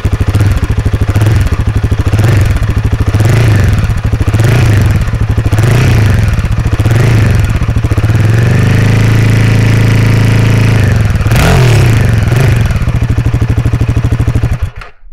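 Royal Enfield Himalayan 450 motorcycle engine running close by, a loud steady exhaust note with a rhythmic pulsing idle, a blip of revs in the middle, then settling back before cutting off at the end.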